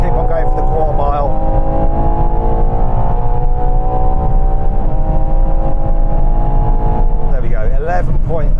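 A Ferrari Purosangue V12 SUV pulls hard through a quarter-mile run, its engine note climbing through sustained gears with brief shift breaks, loud and close from inside the cabin.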